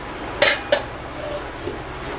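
A metal lid set onto a cooking pot of methi chicken gives two sharp clinks close together, then a few faint knocks over a low kitchen hiss.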